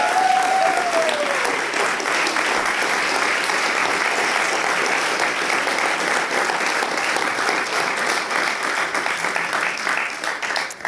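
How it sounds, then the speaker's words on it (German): Dense, sustained applause from a university poetry slam audience welcoming the next performer on stage, loud and even throughout with no pauses. "Komm hoch und ein großer Applaus."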